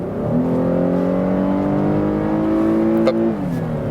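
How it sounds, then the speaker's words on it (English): A 2017 Cadillac XT5 Platinum SUV accelerates hard from 70 to 100 in Sport mode, its engine note climbing steadily with rising revs over a few seconds before a brief drop as it shifts. "Let's do it in Sport to see how the acceleration behaves in the Sport mode"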